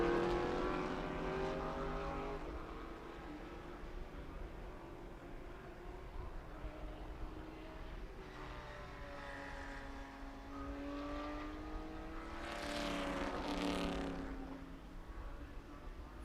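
Porsche 911 GT3 race car, number 55, lapping Watkins Glen during a Trans Am qualifying session, its engine note rising and falling at a distance over steady background noise, with other cars passing.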